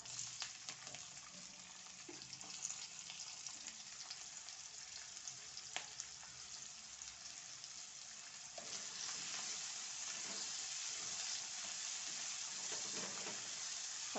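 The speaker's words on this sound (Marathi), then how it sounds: "चांगला गुलाबी होईपर्यंत आपल्याला हे परतायचे।" Finely chopped onion, garlic and two green chillies sautéing in a pan, a soft, even sizzle that carries on for the whole stretch, growing slightly louder and denser near the end, with a few faint stirring scrapes and no voices.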